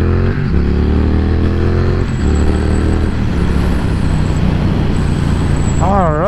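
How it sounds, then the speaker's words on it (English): Triumph Thruxton R motorcycle being ridden, its engine droning steadily and loudly with shifting pitch as it gets under way, with wind and road noise and a voice talking over it. "Now we're going on a nice little ride on this lovely Thruxton R."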